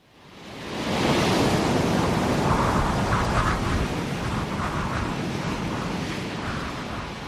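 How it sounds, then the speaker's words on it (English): A storm at sea as a radio-drama sound effect, with a dense, loud roar of crashing waves and howling wind that swells up in the first second and then rumbles on steadily without speech. "The storm hurled itself at us. Its savage teeth whipped the waves white and sent the spume over our decks"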